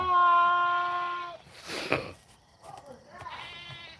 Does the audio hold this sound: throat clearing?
no